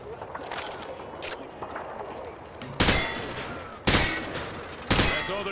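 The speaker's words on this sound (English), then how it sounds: "Allen, adopt the crouching stance and aim down your sight. I need you to fire while crouched" Three loud, sharp rifle shots fired from a crouched stance in Call of Duty: Modern Warfare 2, spaced about a second apart, each ringing out over quiet background ambience.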